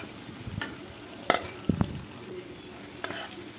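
Pumpkin leaf fritters frying in oil over a low flame, with a soft, quiet sizzle broken by a few sharp clinks and taps of utensils against the pan.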